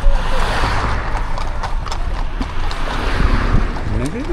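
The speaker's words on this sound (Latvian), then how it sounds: "te ir izjāde ar zirgiem." Horses clip-clop steadily during a horse ride near a seaside hotel in Italy, hooves clattering close and loud, with people talking throughout.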